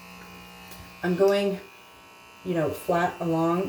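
Electric hair trimmer buzzing steadily in the background while cutting a mullet, a faint continuous hum under someone talking close by.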